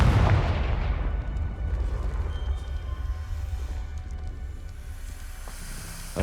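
A Confringo fire spell blasts in Hogwarts Legacy, a heavy booming burst followed by a long rumbling roar that slowly fades, loud and close with no talk.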